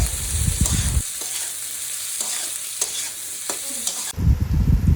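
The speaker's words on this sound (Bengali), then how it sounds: "এবার ক্যাপসিকাম কুচানোগুলো ঢেলে দিলাম। তারপরে ভালোভাবে নেড়ে নেব।" Chopped capsicum frying and being stirred in a pan for pasta: a steady, bright sizzle runs throughout, with scraping spatula strokes and heavier low stirring bursts near the start and end, close and fairly loud with no voices.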